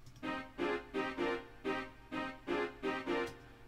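Keyboard chords are struck in a rhythmic pattern, about eight short stabs with brief gaps between them, clear and moderately loud.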